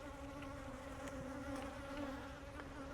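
Honey bees buzz at a hive entrance with a reduced opening, a faint but continuous droning hum of many insects with occasional individual bees flying close past.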